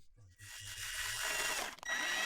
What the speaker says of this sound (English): drilling the mounting hole